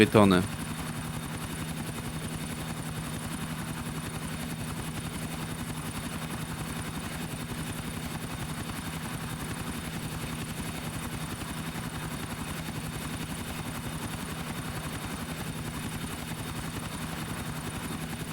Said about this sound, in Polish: jesteśmy w połowie gry i już są helikopterki